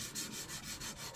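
A chisel blade is rubbed freehand across a sharpening stone in steady back-and-forth strokes, a close, rhythmic scraping that repeats about every quarter second with no voices.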